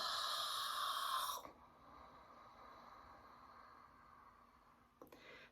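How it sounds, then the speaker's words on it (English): Ocean breathing, air drawn slowly through a constricted throat with the mouth closed, gives a soft, rushing, snore-like hiss: one louder breath at the start, then a faint, drawn-out airy tone and a brief puff near the end. "imagine that sound you're making with your throat, but with your mouth closed. And that's ocean breathing."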